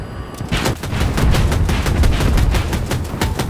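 Battlefield 2042 gunfire on PC, rapid sharp shots in quick repeated bursts, loud and dense throughout, with booming low impacts underneath.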